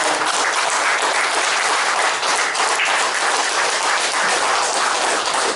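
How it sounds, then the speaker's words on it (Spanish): Loud, dense applause from a gathered audience at a books-and-coffee talk event, a continuous wash of many hands clapping at an even level throughout. "Un aplauso para todos ustedes."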